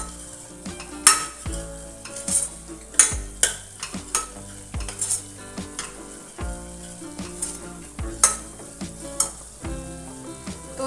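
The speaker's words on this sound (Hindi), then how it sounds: "थोड़ा गरम मसाला, हींग, उसके बाद सारे मसाले को अच्छे से भून लेंगे।" Spices including garam masala and asafoetida roast in a pan while being stirred, with a soft sizzle under repeated scraping and clanking strokes of a metal spoon, close and irregular, with no talking.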